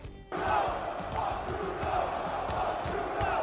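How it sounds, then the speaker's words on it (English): A Canadian crowd chanting at a UFC fight featuring Sean Strickland, a loud, rhythmic arena chant with steady pulsing beats and a dense roar of voices throughout. "Check out what the Canadian crowd was chanting during Strickland's fight"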